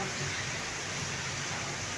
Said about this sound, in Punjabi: ਤੜਕੇ ਤੋਂ ਹੀ ਮਤਲਬ ਕਿਣ ਮਣ ਕਿਣ ਮਣ ਸ਼ੁਰੂ ਹੋਈ ਆ ਤੇ ਹੁਣ ਬਹੁਤ ਤੇਜ਼ ਵੀ ਪੈ ਰਿਹਾ ਆ